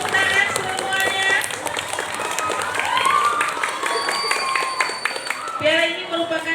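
Scattered clapping from a crowd at a school report card ceremony with a rotating class trophy presented, moderate and sustained, mixed with voices and background chatter throughout.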